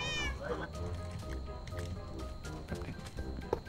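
A cat in Minecraft gives one brief meow right at the start, followed by soft clattering and game noise during the SkyGiants match.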